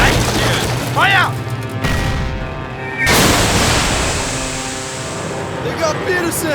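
Tank cannon fire in a Tiger versus Sherman battle film scene, a single heavy boom at about three seconds that rumbles and decays under engine noise, with shouted voices before it.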